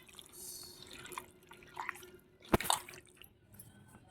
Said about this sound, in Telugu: వన్ నిమ్మకాయ ఫుల్గా పిండేస్తున్నాను నేను